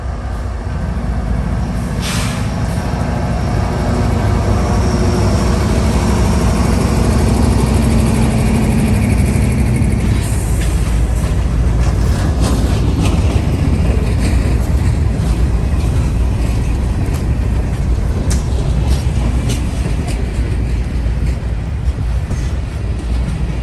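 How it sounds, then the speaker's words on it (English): A long CSX freight train pulled by locomotives 3429 and 746 pulls out of a siding, its diesel engines rumbling loudly and steadily while wheels and cars clatter and squeal alongside. "This is one long train."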